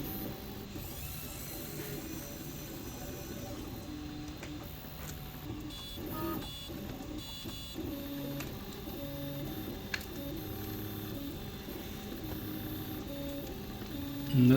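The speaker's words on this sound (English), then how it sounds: "We do have to disconnect the battery, so you have to unscrew it." Screws holding a laptop battery are unscrewed with a driver, producing faint, close, repeated ratcheting clicks and small mechanical ticks over a low steady background, with no talking.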